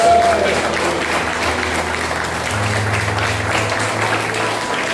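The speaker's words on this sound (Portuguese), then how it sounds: "quem pode aplaudir a um Senhor?" A large church congregation applauds loudly and continuously, a dense wash of clapping with cheering mixed in and a low instrumental hum underneath.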